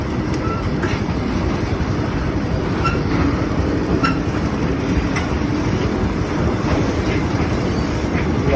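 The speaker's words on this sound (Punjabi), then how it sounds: "ਭਾਈ ਮਿੱਤਰੋ ਰੇਲ ਗੱਡੀ ਵੀ ਜਾਂਦੀ ਹੈਗੇ" A freight train rolls past continuously with a heavy, steady rumble and faint rhythmic clatter of wheels, wind buffeting the microphone.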